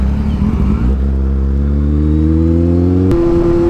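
A Kawasaki Z800 big motorcycle revs up loud and close, the engine note climbing steadily through one long pull before it shifts up near the end and keeps accelerating.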